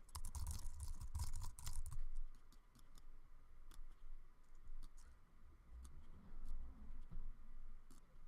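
Soft, close keystrokes tap away on a computer keyboard in an irregular patter. A denser flurry comes at the start, then scattered single clicks over a quiet hum, with no voices.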